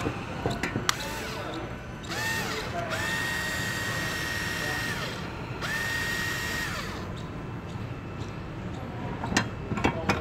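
An impact driver in a hardware store whirs in two sustained bursts with a high whine, among clicks and background chatter, the tool sounding close amid store noise.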